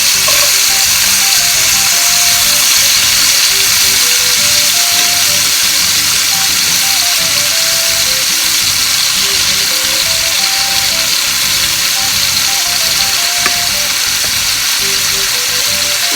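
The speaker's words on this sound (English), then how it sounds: "I'm pretty much just browning on all sides" Meat browning in a hot pan for posole rojo, a steady loud sizzle and crackle running without a break, close up, with only faint clinks of stirring and no talk.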